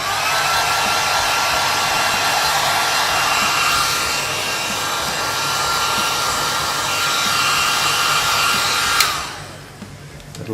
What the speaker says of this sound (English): Now we'll dry off any excess alcohol that's still in the motor with a hairdryer on low speed